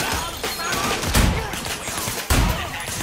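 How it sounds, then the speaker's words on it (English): Gunfire in the video game Sleeping Dogs: a loud, rapid fusillade of shots with two heavier booming bursts in quick succession. "Dude, how many shots do you take?"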